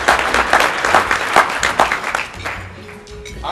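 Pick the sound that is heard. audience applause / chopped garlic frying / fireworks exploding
audience applause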